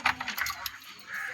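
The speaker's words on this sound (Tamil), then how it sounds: "இப்போ கல் எடுத்து அதில் போட்டுடலாம்." Aquarium stones dropped into a betta fish tank clink and rattle in a brief, close scatter of small hard clicks, then fade into quiet.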